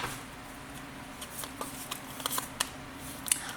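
Tarot cards being shuffled and laid out into a nine-card spread, with soft papery flicks and light taps close by over a quiet room background.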